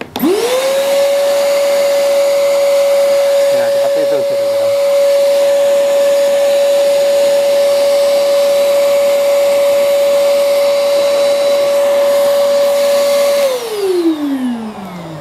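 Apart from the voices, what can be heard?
vacuum cleaner blowing air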